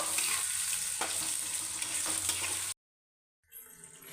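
Onions frying in hot oil tempered with cumin seeds, heard as a loud, steady close sizzle that cuts off briefly and then comes back softer.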